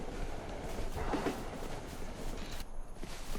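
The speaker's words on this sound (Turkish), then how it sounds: "Tren geçiyor oğlum." Train rolling past in the Wild West Saloon Simulator game, a low rumbling rattle with rhythmic clatter, faint and steady under the game's ambience.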